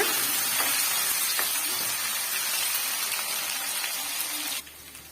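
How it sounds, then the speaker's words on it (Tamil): Onions and curry leaves sauté in a pan with a continuous soft sizzle and hiss, a few faint scrapes of stirring, then the sound drops away near the end; no voices. "இப்போ வெங்காயம் வந்து நல்லா வந்து சுருளை வந்து வதக்கி விட்டுக்குங்க"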